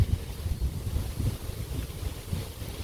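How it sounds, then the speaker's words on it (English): Strong wind buffets the microphone in low, gusty rumbles, steady and loud throughout with no voices. "It's just one of those days where it's abnormally windy."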